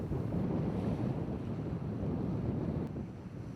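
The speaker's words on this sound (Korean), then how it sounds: "이날 낚시 상황은 주의보가 해제된 직후라 너울 파도가 심하고 날씨도 흐린 편이었습니다" Heavy swell waves on the open sea off Gageodo in winter, just after a weather warning was lifted, make a continuous rumbling wash of surf mixed with gusty wind buffeting the microphone, loud and steady.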